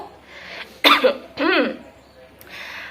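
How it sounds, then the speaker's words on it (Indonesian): A couple of sharp, harsh coughs burst out close by, followed by a throat-clearing rasp, with quiet room noise around them. "Batuk ya."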